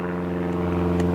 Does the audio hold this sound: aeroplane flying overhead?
yes